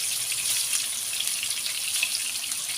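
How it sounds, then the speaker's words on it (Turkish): Eggplant slices fry in hot oil in a pan, giving a steady, dense hiss and crackle with no talking. "Bunlar bu şekilde kızartın."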